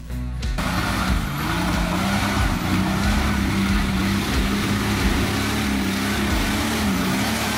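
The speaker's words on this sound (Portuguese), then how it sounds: "a F-75 subiu tranquila." A Ford F-75 jeep engine labours steadily up an off-road trail at a jeep-day event, a loud, continuous close drone with a rumbling low tone that holds for several seconds with no talk.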